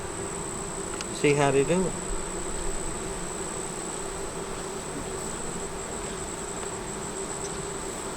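A steady honey bee buzz hums throughout, a low continuous drone, with a brief spoken remark near the start.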